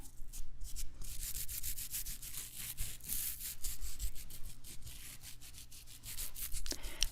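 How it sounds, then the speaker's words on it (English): Steady scratchy rubbing of an eyebrow brush or spoolie brushing eyebrows upward, close and continuous, with repeated quick brushing strokes and no voices. "it's a bristled brush that you're going to brush your eyebrow up"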